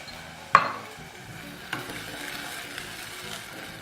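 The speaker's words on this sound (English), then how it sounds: "then we're going to give this a stir" A spoon stirs tomatoes into a pot of peanut butter lentils, giving one sharp scrape or knock near the start and a softer one later over a low, steady simmering hiss.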